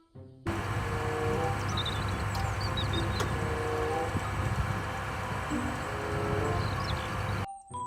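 A toy train runs continuously with a steady mechanical whirring and rattling hum and occasional clicks, close by, starting and stopping abruptly over several seconds.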